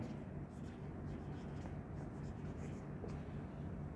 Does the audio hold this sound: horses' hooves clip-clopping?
no